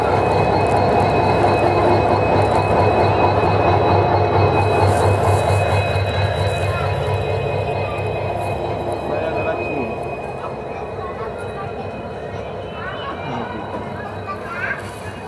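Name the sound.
WDP 4B diesel locomotive hauling train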